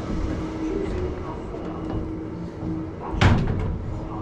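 A heavy door in a nuclear bunker is tried and opened, giving a sharp metallic clunk near the end over a constant low hum of room noise, with people talking quietly beforehand.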